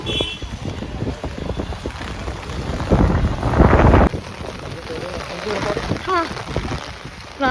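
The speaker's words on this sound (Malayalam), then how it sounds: "ഭയങ്കര ഇടിയും മഴയും കാറ്റും." Heavy monsoon rain pours steadily outside a temple, with wind gusting and a rumble of thunder building midway; people talk over the downpour throughout.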